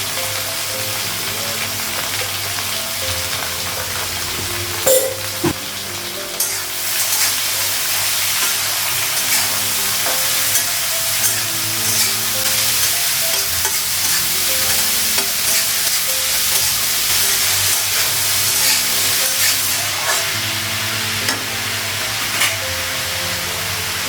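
Sliced plantain frying with salt and turmeric, a steady loud sizzle and hiss from the pan with occasional scraping knocks of stirring, continuous throughout and no speech.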